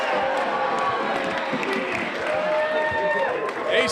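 A wrestling show crowd roars and applauds in a dense, continuous wash of cheering, with commentators talking over it.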